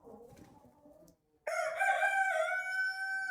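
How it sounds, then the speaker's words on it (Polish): A Marans rooster crows once, loud and close, a long strained call that follows a brief pause after faint background sounds. "widzę koguty maransa."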